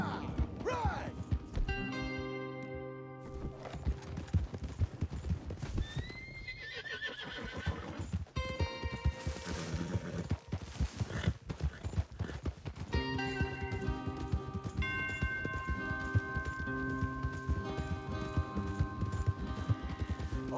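Horses in Red Dead Redemption 2 whinny and neigh while hooves clip-clop steadily beneath game music with sustained tones, the neighs rising clearly above the hoofbeats.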